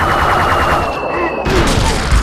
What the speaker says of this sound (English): So they're firing heat-seeking mortars at me.